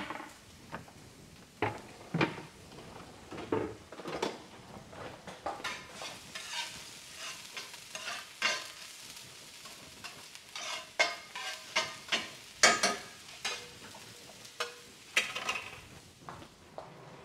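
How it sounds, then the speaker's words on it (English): Onions browning in butter in a pan while making a veggie scramble, with irregular stirring scrapes and light clatters over a soft, steady sizzle, fairly close and alone. "I'm gonna start with the onions and brown these a little bit."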